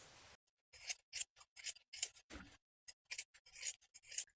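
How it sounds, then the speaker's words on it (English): Scissors trim the seam allowance of a coat sleeve lining for a McCall's 7847 lined coat, giving a run of short, crisp snips close up and alone, with brief pauses between cuts. "Then we can trim the seam allowance close to that second set of stitches"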